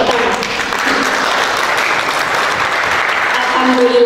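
A lecture hall audience at a guest lecture from Indonesia's Constitutional Court at UIN Maulana Malik Ibrahim Malang breaks into steady, loud applause, with a voice faintly underneath.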